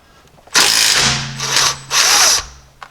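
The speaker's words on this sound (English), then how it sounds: "we can take our 3/8 Allen, which is the size for these plugs" A power tool driving a 3/8 Allen socket to remove a transfer case drain plug, with three loud whirring bursts and short ratcheting pauses between them, close by.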